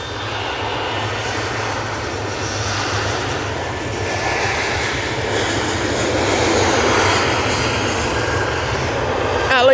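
A Ryanair airliner's engines roaring during its takeoff roll, a loud broad steady rumble building slightly toward the end, heard from fairly close with no talking over it.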